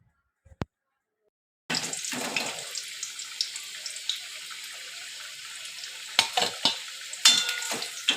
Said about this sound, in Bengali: তেল গরম হয়ে গেছে এবং আমরা আলুগুলো ছেড়ে দিয়েছি।